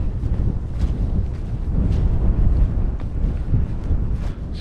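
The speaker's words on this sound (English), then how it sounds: "It's very windy." Strong wind buffets and roars continuously, gusting in waves with a rough, rumbling texture close to the listener.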